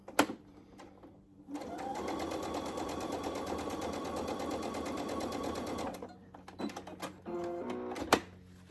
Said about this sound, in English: I'm gonna sew from corner to corner.